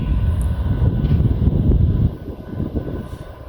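A train rumbles at a Doncaster station platform on the East Coast Main Line. A loud, low engine drone holds steady, then eases somewhat partway through.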